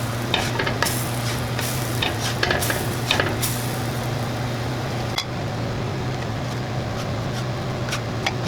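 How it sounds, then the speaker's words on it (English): Whole wheat pancake batter sizzles and crackles on a hot griddle, a steady close frying hiss with scattered sharp pops, busier early then settling into a quieter even sizzle, with no voices. "they should make a nice sizzle as they go on."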